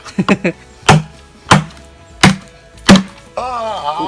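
Bamboo being chopped into segments for a homemade bamboo bowl: a quick cluster of three light knocks, then four heavy, evenly spaced wooden thunks, close and loud. A voice starts speaking at the very end.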